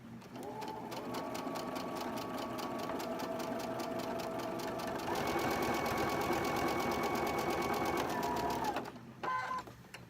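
A sewing machine stitches steadily across a quilt puzzle piece, a close, even mechanical whir that speeds up slightly midway and stops abruptly near the end, followed by a few faint handling clicks.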